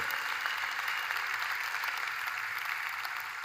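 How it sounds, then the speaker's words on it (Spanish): A church congregation applauds during an evening sermon, a steady, dense wash of clapping from many hands that stays level and fairly close throughout, with no voices rising above it. "Un aplauso para todos ustedes."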